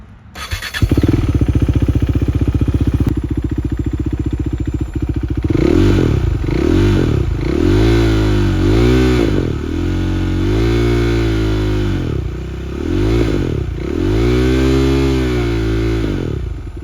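A KTM Duke 390 single-cylinder motorcycle idles loudly up close, then revs and accelerates through repeated rising and falling gear pulls, its punchy thumping engine note surging and dropping during the ride.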